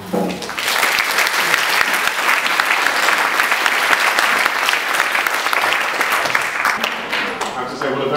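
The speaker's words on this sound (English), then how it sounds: "Very nice crowd to want to applaud" Sustained applause from a large audience welcoming keynote author Conn Iggulden at a historical novel conference in London, a dense, steady roar of clapping that holds loud for several seconds before tapering slightly at the end.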